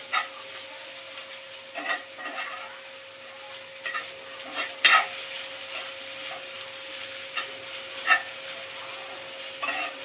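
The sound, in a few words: roasting in ghee on medium gas flame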